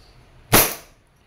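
A WE M92 airsoft pistol, silver finish, fires a single sharp crack during a test, loud and close, with the report decaying quickly into quiet.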